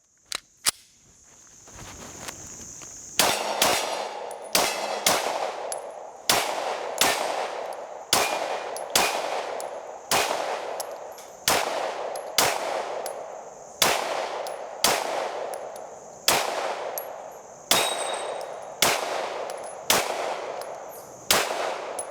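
A Stoeger STR-9S pistol fires Gecko ammunition in a string of loud, sharp shots at a steady, regular pace, each crack ringing out with a brief echo.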